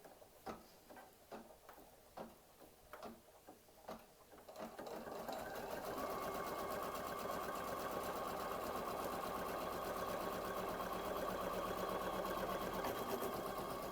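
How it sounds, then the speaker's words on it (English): An embroidery machine runs decorative stitching back and forth across a towel topper held in its hoop, first as a series of separate ticking stitch bursts and then as a steady, loud, continuous mechanical whir. "frame 6 is going to be a little decorative stitching back and forth across here"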